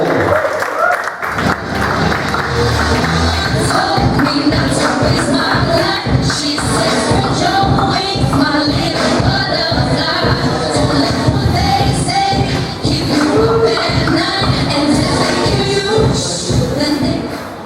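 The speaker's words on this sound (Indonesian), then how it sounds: "Beri tepuk tangan yang meriah untuk Nami Barel." An audience at a stand-up comedy show claps and cheers for a comedian, a steady dense roar of applause that holds strong for most of the stretch after a brief quiet start.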